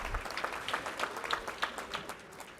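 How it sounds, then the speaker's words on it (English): Audience applause at a former athletes' association gala, a steady patter of hand clapping from a crowd with no voices over it. "Let's get them hands clapping."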